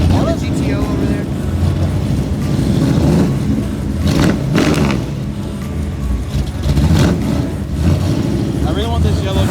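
A car engine revs loudly and roars past at a car show featuring a GTO and a Cobra, with crowd noise and people talking over it.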